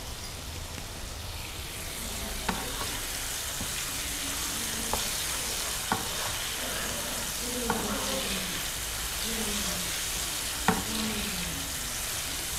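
Chicken pieces fry and brown in a pan with a dense, continuous hiss of hot oil, punctuated by occasional sharp pops and faint scraping, steady and close, with no one speaking.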